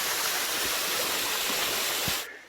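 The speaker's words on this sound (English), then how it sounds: "That's a pretty little waterfall." A small waterfall on a hiking trail along Split Rock Ridge, Minnesota, gives off a steady, broadband rush of falling water that stays near and even throughout, then cuts off abruptly at the end.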